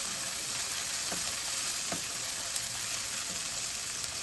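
Ginger garlic paste frying with spices in a pan, a steady close sizzle with a few soft stirring scrapes, no talking, for a fish curry with turnip.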